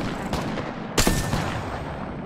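Gunfire in Apex Legends, with a couple of loud, close shots cracking over a dense, continuous game soundscape.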